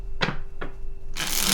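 Tarot cards shuffled by hand in three quick bursts, two short riffles followed by a longer, louder bridge-like cascade, close and clear with no talking.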